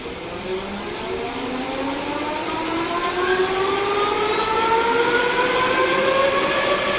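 A boomebike S1 electric bike accelerating on dual motor, its motor whine climbing steadily in pitch with rising harmonics, loud and continuous over road and wind noise, with no talking.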